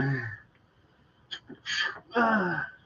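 A single sneeze close to the microphone, preceded by a brief voiced breath or gasp, with short quiet vocal sounds in the stillness of an indoor paranormal session.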